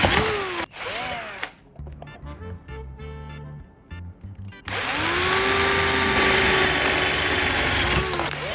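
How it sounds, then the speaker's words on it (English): A power drill whines loudly as it bores into material, with a short pause of clicks and lower rattling before a long, steady high-pitched drilling run. "Now I'm going to start drilling, taking it slow and steady"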